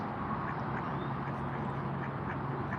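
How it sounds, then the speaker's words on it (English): Mallard ducks by the Brazos River in Waco, Texas quacking faintly at a distance over a steady outdoor background hum, a few soft quacks with no talking. "Hey, mallards. Mallard ducks."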